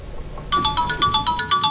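A cellphone ringtone plays loud and close, a quick repeating electronic chime pattern with a steady pulsing rhythm that starts abruptly.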